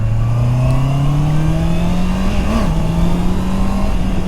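A 2021 Honda CBR 650 R motorcycle, still being broken in, runs at a steady, loud idle that climbs slowly in pitch, with one short throttle blip midway. The engine sits close and alone, with no talk.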